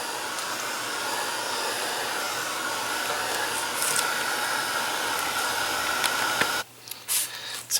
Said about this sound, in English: I'm going to dry that and then put a little more on